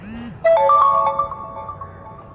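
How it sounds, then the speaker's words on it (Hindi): A WhatsApp message notification chimes on a phone: a short, loud, bright tonal alert of a few ringing notes that fade out over about two seconds, heard alone. "सॉरी वहाँ पर मेरा व्हाट्सएप पर फ्रेंड्स मैसेज आ गया था"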